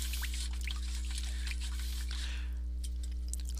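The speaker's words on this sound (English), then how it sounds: "I'm going to rinse out this brush" A paintbrush swished and rinsed in a water cup during a painting session, giving soft wet squishes and drips over a steady low electrical hum, close and fairly quiet, with no talking.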